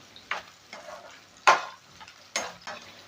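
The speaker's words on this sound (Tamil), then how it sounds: "எடுத்து வச்சுருக்கிற இந்த கத்திரிக்காவை எண்ணெயில் போட்டு எடுத்துக்கலாம் கொஞ்சம் அப்படி எண்ணெயிலேயே நல்லா வதக்கிக்கலாம்" Brinjal pieces frying in oil for an ennai kathirikai kulambu, stirred in short bursts: a handful of separate scraping, sizzling strokes with quiet gaps between, close and moderately soft.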